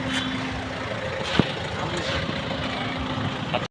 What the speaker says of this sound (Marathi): ते गाडी आली गाडी आल्यामुळे आम्हाला थांबायला लागलं